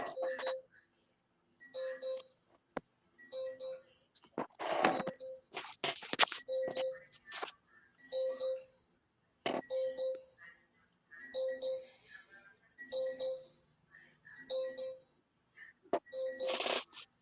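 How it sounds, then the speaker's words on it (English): A phone sounds a repeating alarm, short electronic beep bursts in a steady pulsing pattern close by, with some clattering handling noise in the middle. "My phone is like making an alarm noise, but it's not telling me why"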